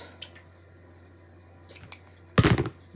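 Scissors cutting material for a Chalk Couture farmhouse tray: a few quiet snips, then a louder burst of close crunchy cutting near the end, with no talk.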